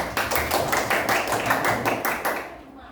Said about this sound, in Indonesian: tepuk tangan buat uangnya